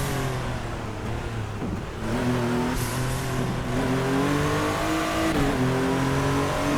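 A car's engine in the racing video game Midnight Racing Tokyo revs loudly and continuously, its pitch climbing and shifting through the gears with a dense roar and no talk.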